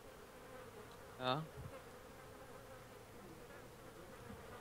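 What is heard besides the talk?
fly buzzing in the video game DayZ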